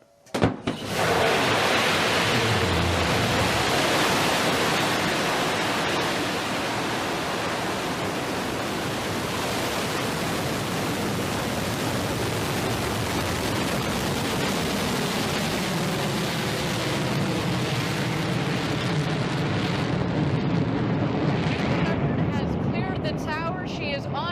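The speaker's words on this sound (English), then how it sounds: "Command engine start." Rocket engines roar at a crewed spaceflight launch, a dense, continuous broadband rumble that swells in at once and holds loud and steady for the whole stretch.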